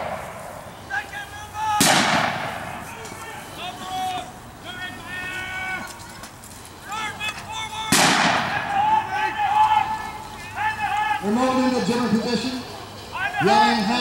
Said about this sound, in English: There's some firing going on and pit stuff.